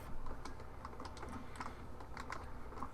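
Keys clatter on a computer keyboard as a website address is typed, an uneven run of close, crisp taps and presses lasting about three seconds, with no talking.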